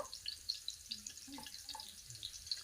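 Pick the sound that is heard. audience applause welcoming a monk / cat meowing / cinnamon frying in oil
cinnamon frying in oil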